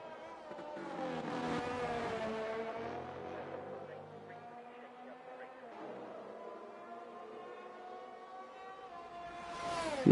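Race cars circling behind the safety car in a racing game at Spa, a steady engine drone with layered tones rising and falling over ten seconds, moderately loud and continuous.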